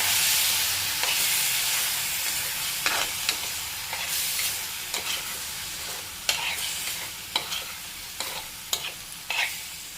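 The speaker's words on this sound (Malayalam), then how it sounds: "എന്നിട്ടൊന്ന് ഇളക്കി വയ്ക്കുക." Cleaned prawns stirred into fried onions in a pan, a strong steady sizzle with repeated sharp scrapes and knocks of a spoon against the pan, no voices.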